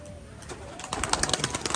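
Pigeons in a loft coo and shuffle close by, with soft fluttering and rising bird calls growing busier and louder over a short, noisy stretch.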